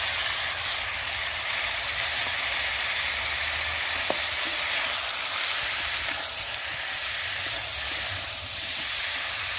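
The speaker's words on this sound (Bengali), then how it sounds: "জিরে বাটা, আদা বাটা আর পেঁয়াজ বাটা দিয়ে ভালো করে কষিয়ে নেব।" Ground cumin, ginger and onion paste frying and being stirred in a pan for a fish curry with drumsticks, a steady close sizzle and hiss throughout with occasional scrape of the spoon, no voices.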